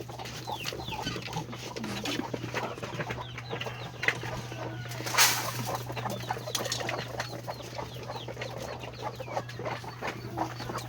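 Hens cluck softly and repeatedly at a distance over a constant low hum, with a brief louder squawk midway.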